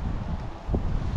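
Wind blows outdoors on a sunny day, a low, steady rumble of gusts buffeting the microphone with faint rustling, and no voices.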